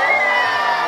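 A group of camp children shouts together in one short, loud burst, a brief crowd cheer at a summer camp dance event.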